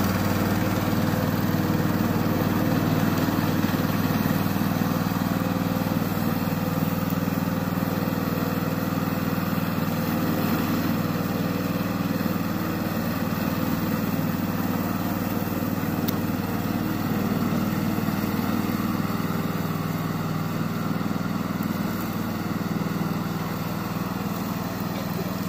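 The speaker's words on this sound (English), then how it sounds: "Today I'm going to introduce our remote control lawnmower." A small remote control lawn mower drones steadily throughout, a constant mid-pitched engine hum with no talking over it.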